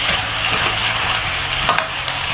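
Chicken curry with turmeric gets stirred in a pan, a close, continuous scraping and sizzling with a spoon working the contents and no talking.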